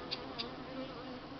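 Local honeybees buzz faintly and steadily around a hive, a low hum with a couple of brief higher whines as single bees pass close.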